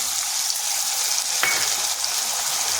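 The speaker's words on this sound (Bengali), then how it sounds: "আর পেঁয়াজ আর রসুনটাকে একটু ভেজে নেব, যাতে তার কাঁচা গন্ধটা চলে যায়" Onion and chopped garlic frying in a pan give a steady, dense hiss of sizzling oil with one brief scrape midway, close and continuous.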